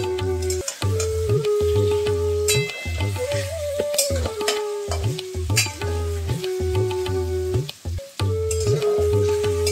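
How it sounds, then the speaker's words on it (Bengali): Paneer pieces fry lightly in hot oil with a steady, close sizzle, broken by frequent scraping and clinking stirs from a utensil in the pan; no voices. "পনিরটা আমি বেশি ভাজবো না, একটু হালকা করে ভেজে নেব।"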